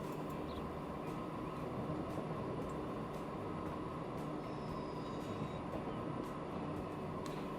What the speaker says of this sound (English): Is that the freight train?